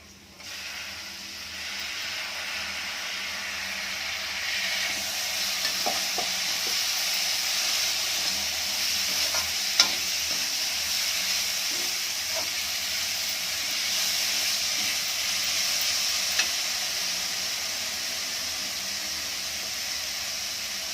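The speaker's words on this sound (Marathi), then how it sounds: "आणि आता टोमॅटो टाकून घेऊया" Tomatoes frying in a pan for a dish of crumbled leftover flatbread, giving a steady, moderately loud sizzle and hiss throughout with a few faint clicks and scrapes of stirring, with no talking.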